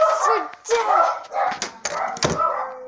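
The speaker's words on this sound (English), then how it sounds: "I hear dogs. I hear some dogs." Dogs bark and yip in short bursts mixed with excited talking voices, close and fairly loud.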